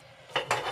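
A cooking pot is scrubbed clean after cooking eggs and curry in a home kitchen. Two short, bright scraping strokes of metal follow a moment of quiet and sound close and fairly soft.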